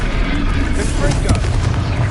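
The Confringo explosive spell going off in the Hogwarts Legacy video game: a dense, booming blast that rumbles steadily through the whole moment with no clear break.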